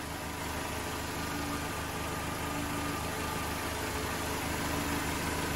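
A Mercedes 190E engine idles steadily after a downpipe exhaust repair, a low, even, continuous hum that stays close and fairly quiet with no one talking.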